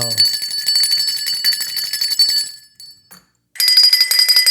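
A bell rings repeatedly in quick bright strikes, loud and close, as a sound effect; it cuts off briefly into silence, then a fresh burst of ringing resumes.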